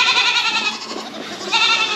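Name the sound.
goats bleating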